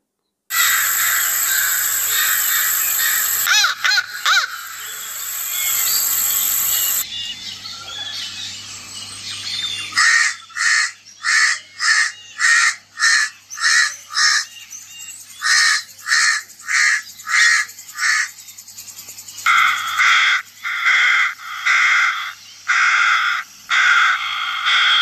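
Crow calling in a long series of loud, close caws in uneven bursts, with a stretch of continuous squawking near the start and separate harsh calls repeating through the rest.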